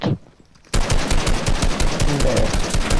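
Rapid video game gunfire erupts after a brief lull, a loud, sustained automatic burst that continues steadily to the end.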